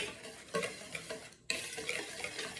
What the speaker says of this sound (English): we're gonna whisk these together first, just to make sure our dry ingredients get nice and mixed